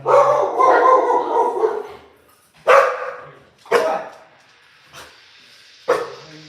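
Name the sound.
dogs barking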